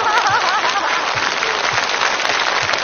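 Studio audience at a televised singing show applauding steadily throughout, a dense continuous clapping wash, with faint background voices mixed in.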